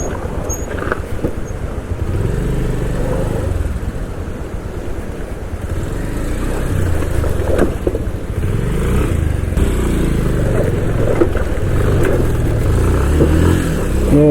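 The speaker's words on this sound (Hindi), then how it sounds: "तो अपनी बाइक पत्थर में फंसी और अपने जूते गीले" A motorcycle engine labours loudly and continuously on a rough, rocky mountain road near Sankari in Uttarakhand, the bike stuck on stones, with steady mid-pitched engine drone and revving surges throughout.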